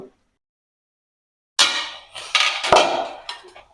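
A lid goes onto a pot of village-style tengra fish curry with pumpkin and Malabar spinach, giving a few sharp metallic clanks and rattles after a silent pause, close and fairly loud.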